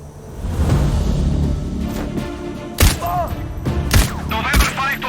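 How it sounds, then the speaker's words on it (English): Several sharp gunshots crack out in Sniper Ghost Warrior Contracts 2, spaced irregularly over a rumbling ambient game backdrop, with a couple of loud close bursts near the end and no talk. "I just heard gunshots!"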